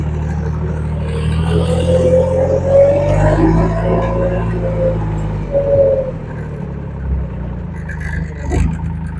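JT5WL800 compact wheel loader driving forward and in reverse, a loud, close engine drone with a low rumble and whirring hydraulic tones, plus occasional clatter and scraping as it moves.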